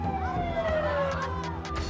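An emergency siren wails with a falling, sweeping tone over busy background noise and faint voices.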